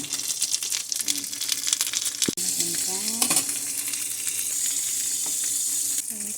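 Chicken frying in butter in a pan for honey garlic chicken, a steady close sizzle throughout with brief clinks and stirring noises and faint talk underneath.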